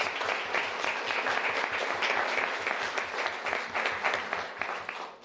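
Applause from the audience at a city council meeting, honoring staff who work with teens: steady, dense hand clapping filling the room for about five seconds, fading slightly at the end.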